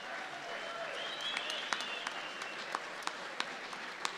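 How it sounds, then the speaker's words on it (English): An audience at an award event applauds steadily for a few seconds, with scattered sharp claps rising above the wash and faint voices mixed in. "So please give them a round of applause"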